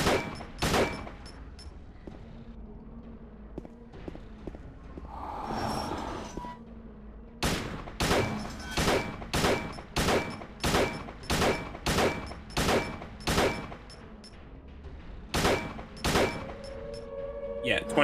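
Gunfire in Silent Hill HD Collection: a few scattered shots, then a long run of sharp, evenly spaced bangs about once every half second, loud and close over a low background hum.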